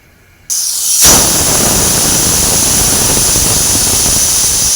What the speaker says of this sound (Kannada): ಎರಡು ವಿಸಿಲ್ ಆದ ಇನ್ನೊಂದು ವಿಸಿಲ್ ಬರಲಿ